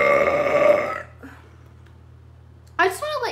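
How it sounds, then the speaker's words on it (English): A person gives one long, loud, throaty burp that trails off into quiet, followed by a short vocal sound at the end. "when I burp, I actually don't know how loud they're going to be until they happen"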